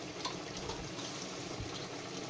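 Water is poured into a pan of potato and peas curry (aloo matar), giving a steady, even liquid rush that lasts throughout at close range with no voices.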